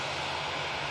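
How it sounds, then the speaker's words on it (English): An Aegean Airbus A320ceo arriving at Manchester from Athens produces a brief, even wash of engine noise at a moderate distance. "That A320 CEO has just come in from Athens."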